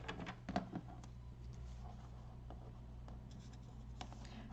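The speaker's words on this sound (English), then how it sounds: "bring back your trimmer and you're going to trim 1/8 of an inch off both sides" A paper trimmer slides along card as a strip is cut from a pop-up card, giving a soft, close scraping with a few small clicks over low room hum.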